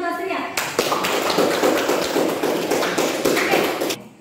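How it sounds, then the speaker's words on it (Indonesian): Classroom students clap together, a dense burst of group clapping that starts abruptly and holds steady for several seconds before cutting off. "Tepuk tangan untuk Astria."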